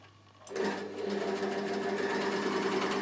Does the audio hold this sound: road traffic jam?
no